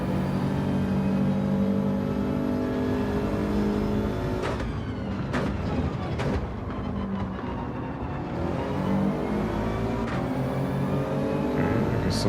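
Car engine in the Gran Turismo 7 racing game, a continuous loud droning engine note with revs rising and falling through gear changes and cornering, with a few sharp shift or bump transients.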